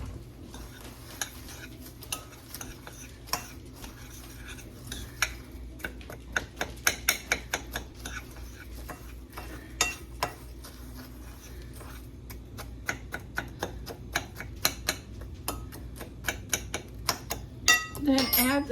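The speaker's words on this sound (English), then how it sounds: "2 cups of powdered sugar, and then give it a nice stir" A spoon stirs powdered sugar into a thick peanut butter mixture, giving irregular clinks and scrapes against the bowl that quicken toward the end, with faint voices in the background.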